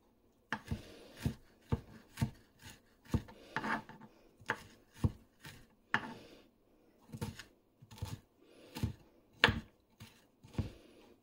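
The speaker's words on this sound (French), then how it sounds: "je vais couper mon ail" Knife chopping garlic on a cutting board, a steady series of crisp close taps spaced irregularly, each with a brief scraping edge, in an otherwise quiet kitchen.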